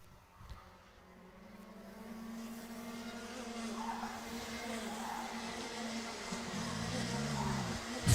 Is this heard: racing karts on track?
yes